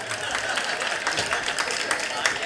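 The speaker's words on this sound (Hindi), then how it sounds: "इसमें तालियां पुरुष बजाते तो ज़्यादा अच्छा था" Audience applause and scattered clapping at a religious discourse gathering with a Jain monk, steady and moderately loud for the whole stretch, a crowd of hands rather than a few.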